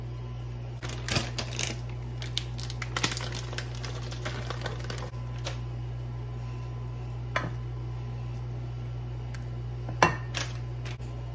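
Ingredients mixed together in a bowl for a budget family dinner give off scattered clinks and scraping taps over a steady low hum, with no talking.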